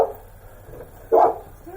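A dog barks behind a door during a police doorstep visit, two muffled, moderately loud barks a second apart.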